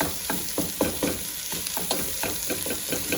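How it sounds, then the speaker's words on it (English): Sausage sizzling and frying in oil in a pan while it is broken up and stirred, a steady close hiss with regular scraping and stirring strokes and no talk. "we're gonna add our sausage and just break it down and cook it up"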